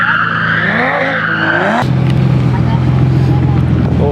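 A car spins with tires skidding and engine roaring, loud and continuous at close range, during a night meet of A90 Supra, G35 and M240i cars; people talk and shout over it.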